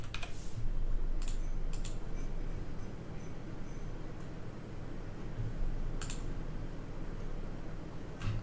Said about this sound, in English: Let's type Opcon.